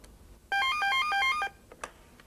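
A telephone rings for about a second in a loud, clear warbling electronic trill, followed by a couple of faint clicks.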